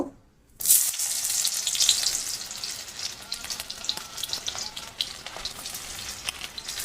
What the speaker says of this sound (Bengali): তেলটা গরম হয়ে এসছে, এবারে পেঁয়াজগুলো দিয়ে দেব